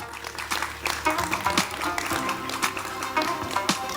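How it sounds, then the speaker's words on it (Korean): An audience at a drama production press event claps steadily as the actors come on stage for a photo session, the dense applause continuous throughout with faint voices underneath. "배우분들 무대로 나와주시기 바랍니다. 여러분 큰 박수 부탁드릴게요"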